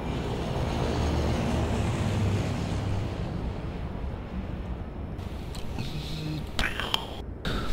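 A roaring airplane engine in the zombie shooter Left 4 Dead 2 drones steadily and loudly up close. Gusty rumble fills the background and the tone thins toward the end, mixed with faint game effects and possible low voices.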